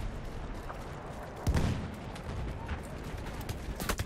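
Battlefield 1 gunfire, a few sharp cracks and booms, one louder blast mid-way and more shots near the end, fairly faint under background battle noise.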